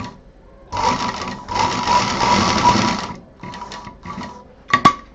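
Sewing machine stitching a fabric hot pot pad: a loud, close mechanical whir in bursts of about one to two seconds, with short pauses and a few quick stop-start runs at the end.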